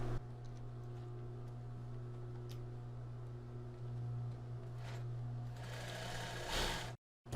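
Sewing machine stitching a plus-size bra with a strap, a steady close motor hum under rapid needle ticking that runs continuously, then a brief burst of faster stitching before it cuts off.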